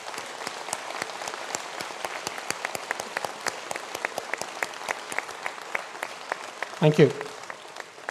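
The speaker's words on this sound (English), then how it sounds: "Let me applaud them" Dense, steady applause from a conferring ceremony audience for standing engineering graduates, a full crowd clapping continuously, with a brief spoken thanks near the end.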